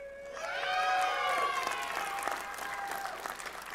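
Applause and cheering from a convention keynote crowd, a broad wash of clapping mixed with whoops and a loud voice rising over it, gradually tapering over a few seconds.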